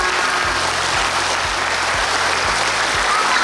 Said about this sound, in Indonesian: Tepuk tangan untuk anak-anak sekolah.